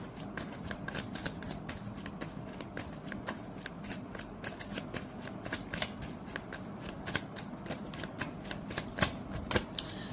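Tarot cards are shuffled continuously, giving a dense run of soft, rapid riffling flicks and snaps that are close but fairly quiet, with no voices.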